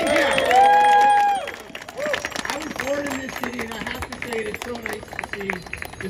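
Crowd claps and cheers for the mayor at a political event on Bill 40, a loud burst of applause that fades into lively mixed chatter and speaking voices over continued scattered clapping.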